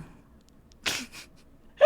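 A person imitates a Minecraft breathing sound, giving short, close, breathy gasps, two quick airy bursts followed by a sharper voiced intake at the end.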